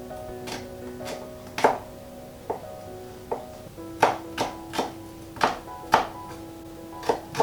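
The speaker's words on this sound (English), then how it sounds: "You also need to just either mince or very finely chop the garlic." Garlic is finely chopped with a knife on a board in a home kitchen, giving a series of sharp, close taps that start sparse and become quicker and more regular toward the end, with no voices.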